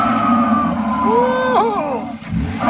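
A 2025 Ram truck with a 3.0L twin-turbo Hurricane engine and a K&N cold-air intake revving close by, a loud throaty surge that rises and falls over about three seconds, with people's voices mixed in.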